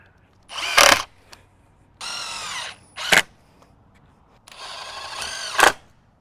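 Cordless power drill driving short screws into a wooden hoop house frame on a raised garden bed, several short close whirring bursts with sharp clicks and quiet pauses between.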